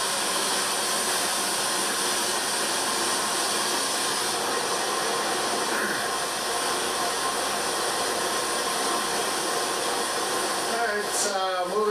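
Water rushes through a 48-inch diameter culvert at Four Seasons Drive in high flow, a steady broadband roar that holds at the same level throughout, with no talk over it.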